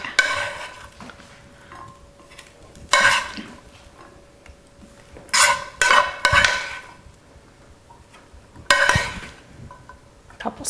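A saucepan of sauce goes back onto a stove burner: several sharp metallic clanks and scrapes of pan and utensils stand out against a quiet kitchen background with a faint steady hum.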